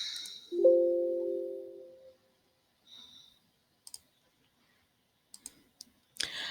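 Calculator buttons are pressed in a few sparse, faint clicks after a brief tonal beep, with quiet gaps between the taps.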